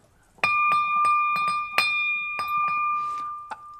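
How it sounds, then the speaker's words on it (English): A bell is struck repeatedly in an irregular rhythm, each close, bright strike ringing on with sustained tones, about ten rings in a row over low room noise. "Can I ring the bell?"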